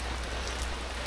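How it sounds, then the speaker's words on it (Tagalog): Heavy rain pours steadily at a construction site for a brick oven being roofed, a constant dense hiss with a low rumble underneath, even in level from start to finish, no talking. "Malakas ng ulan."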